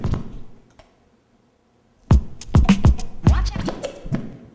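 Turntable scratching in a double-stab pattern: after a quiet stretch, a flurry of sharp, close scratch strokes comes in quick pairs and bursts, loud and rhythmic, with no talking.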